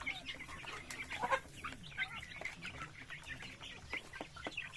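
Backyard chickens and chicks cluck and peep steadily at a morning feeding on a rural farm, with many overlapping calls at moderate distance and no talking.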